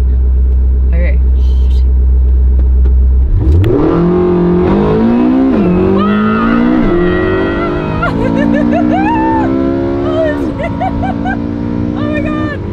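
A Porsche 918 engine revs up from idle and accelerates hard, its loud rising whine climbing through gears close by, with excited shouting from people in the car over it.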